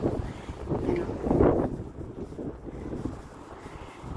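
Spring wind blusters against the microphone outdoors along a roadside of flowering trees, a low, steady rumbling roar that swells and eases throughout.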